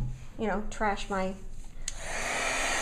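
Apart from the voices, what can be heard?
heat gun turned on for a craft project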